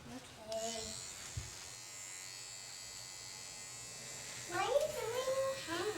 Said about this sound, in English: Okay, I'm just going to shave.